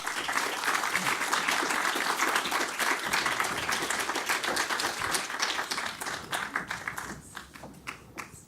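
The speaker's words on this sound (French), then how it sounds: "je vous demande d'applaudir Madame" An audience at the 2018 Eurêka prize ceremony claps for an award winner, steady dense applause for several seconds that gradually thins and becomes more scattered toward the end.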